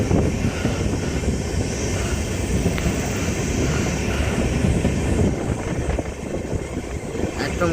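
A passenger train runs steadily through dense forest in the Sevoke area on a Bangalore to Bengal journey, its continuous rumble and wheel clatter loud and close throughout, picking up speed after a slow stretch.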